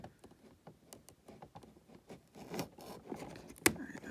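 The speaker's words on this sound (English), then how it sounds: "I'm seeing tape on the side here, so I'm just going to cut this" Scissors or a blade snipping through tape on the side of a toy box for a Micro Galaxy Squadron gunship, heard as quiet scraping and rustling with one sharp snap near the end.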